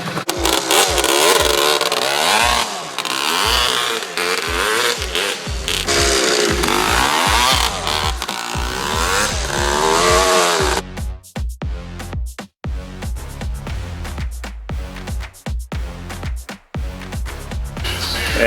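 A Yamaha Tri Z three-wheeler, a barn find stored for 27 years, runs loud and close, its two-stroke engine revving and blipping repeatedly with choppy bursts of throttle and brief idle dips.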